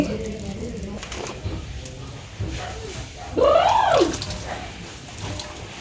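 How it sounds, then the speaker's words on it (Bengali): In a village kitchen, water is poured into a cooking pot of taro stolons (lati), giving a short watery gush over background noise, with a rising and falling tonal sweep midway. "লতিটা ভাব দিয়ে নিম তাই জল দিয়ে দিছি"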